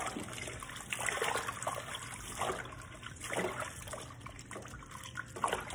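Tap water runs steadily over cabbage leaves being washed by hand in a home kitchen, a soft continuous trickle with occasional splashes, fairly close and without talk.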